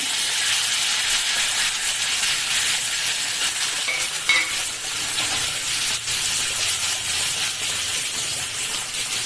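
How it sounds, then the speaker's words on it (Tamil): Curry leaves crackle and sizzle in hot sesame oil inside a small tempering ladle, a loud continuous hiss with brief pops around the middle, close and without speech. "எண்ணெய் காஞ்சதும் இதில் வந்து கருவேப்பிலை போட்டுக்கோங்க."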